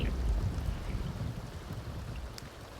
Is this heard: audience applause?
no